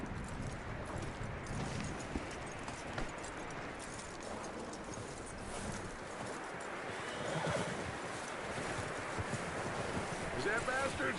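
A horse in the Red Dead Redemption 2 game neighs and clip-clops, with wind and rustling around it and voices talking over the scene.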